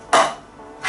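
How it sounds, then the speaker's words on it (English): Tinned cannellini beans, a 400 g can drained, tipped into a Ninja soup maker: two loud clattering bursts about a second apart, metallic clinks of can and contents against the jug. "I'm going to put cannelloni beans in now."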